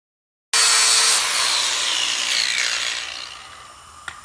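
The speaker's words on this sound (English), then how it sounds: "we're now going to take the grinder, grind the heads down" A grinder grinds down bolt heads with a loud, harsh, continuous whine that starts abruptly and slowly eases off over a few seconds.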